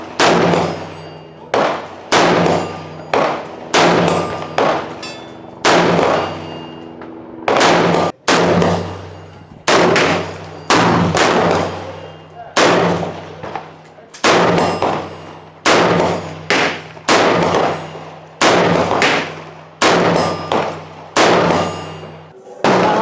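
Repeated rifle shots fired with an Elftmann Apex trigger at a range ring out loud and close, sharp cracks with metallic ringing, arriving in irregular bursts and singles throughout with brief gaps.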